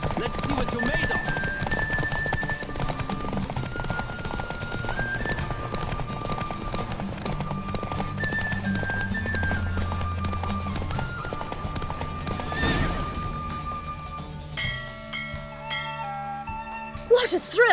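A horse gallops hard through a race in The Witcher 3, its rapid hoofbeats steady and loud over a musical drone before fading into a quieter finish with brighter sounds.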